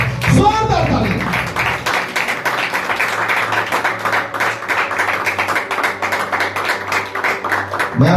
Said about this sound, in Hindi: जोरदार ताली यीशु के लिए, जोरदार ताली